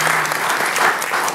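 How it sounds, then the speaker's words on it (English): Brief burst of audience applause at a theater event, dense and steady clapping close up, with no voices on top. "That's right, it deserves applause."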